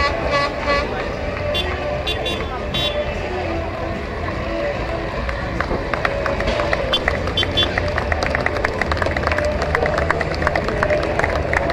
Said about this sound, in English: Big round of applause for your top three in the World of Shale.